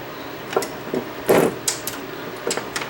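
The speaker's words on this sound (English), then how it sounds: "Put my washer on and put the other nut on here." A washer and nut are fitted onto a switch mount on the back of an ELEKIT TU-8200 6L6 single-ended tube amplifier, giving small metallic clicks, taps and scrapes, close and faint, in short irregular bursts.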